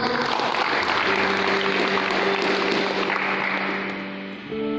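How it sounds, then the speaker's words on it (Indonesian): A church congregation applauds with dense, sustained clapping that fills the space, over a steady held tone, then tapers off near the end. "Boleh tepuk tangan buat Tuhan?"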